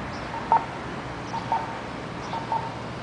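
A pedestrian crossing signal in San Giovanni Rotondo, Italy, beeping at a steady pace of about one short tone per second, moderately near over faint street ambience, no talk.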